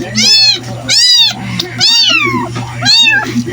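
A cat meows four times, loud and close, each cry drawn out and wavering, with short pauses between and a low hum underneath.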